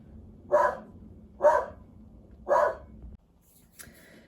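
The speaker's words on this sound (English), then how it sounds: "sorry, that's my dog" A dog barks three times indoors, single evenly spaced woofs, moderately loud and a little distant, followed by a faint clatter.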